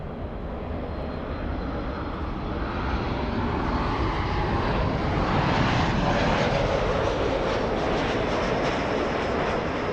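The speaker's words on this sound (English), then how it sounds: "Lufthansa 456 flying in from Frankfurt. That's a 747." A Lufthansa Boeing 747 from Frankfurt arriving at Los Angeles airport, its jet engines producing a loud, steady broadband roar that swells slightly midway and holds throughout.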